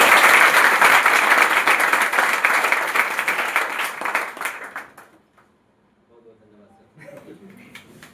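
Loud, dense audience applause at a student award ceremony honouring board exam toppers at a coaching centre, sustained for about five seconds before fading out, followed by quieter background murmur.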